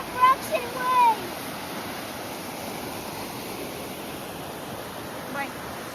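Waves crash and wash over rocks on the coast of Puerto Rico, a continuous broadband roar with brief louder bursts at the start and no clear voice over it.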